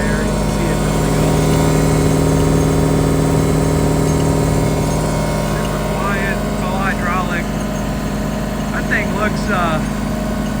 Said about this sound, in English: just flipped on our air compressor